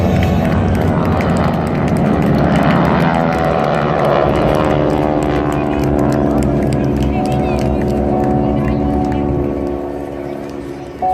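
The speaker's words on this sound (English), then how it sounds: "with aircraft all over the sky" Several propeller airplanes droning steadily overhead at an air show at MacDill Air Force Base, Tampa, Florida, a dense, continuous engine hum with layered tones that thins slightly near the end.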